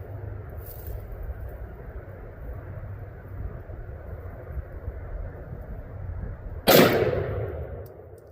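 A single loud, sharp gunshot from a .460 S&W revolver with a 5-inch barrel cracks out late, followed by a ringing decay over a low outdoor hum.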